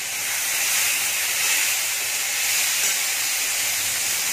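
Chopped tomatoes hit a hot pan for fish curry, producing a steady loud hiss and sizzle that holds evenly for a few seconds with no voices over it.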